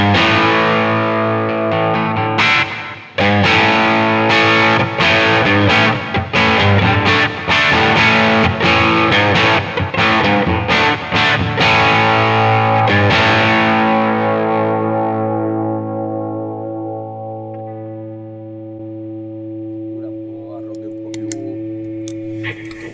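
Electric guitar played through fuzz effect pedals, giving dense distorted chords with rapid strummed attacks that stop and leave a long, slowly fading sustained ring, loud and close with no talking.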